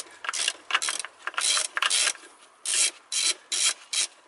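Ratchet tool turning to loosen the throttle body bolts on a car or truck, heard as close, rapid clicking bursts in an uneven rhythm of short strokes with brief gaps between them.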